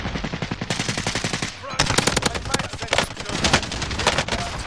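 Rapid automatic gunfire in the Warzone video game, loud and close, in dense bursts with a brief gap near the middle of the clip. It is mixed with game sound and no one speaks.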